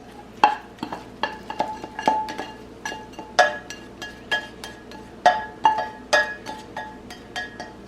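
Vegetables being stirred in a pan while cooking a lentil loaf, with a steady run of clinking utensil strikes against cookware and a faint sizzle underneath, close and fairly loud, no talking.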